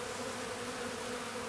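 A dense, continuous buzzing of a honey bee swarm, close and steady, without any voices.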